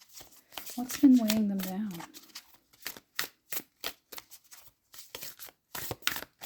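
A Moonology oracle card deck is shuffled in quick, papery rustling bursts. The bursts are close and fairly quiet, and a voice speaks briefly near the start.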